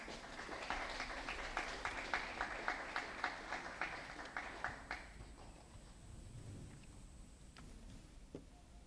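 Applause for a BTEC student award at Oshwal Academy in Nairobi: a crowd claps for about five seconds with a few sharp individual claps standing out, then the sound thins out into scattered faint claps and room noise.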